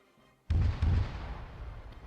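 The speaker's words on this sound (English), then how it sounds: "Fire mission being delivered." A single heavy artillery round bursts in the Arma video game, a sudden deep boom followed by a second thump and a long rumbling decay after a moment of near silence.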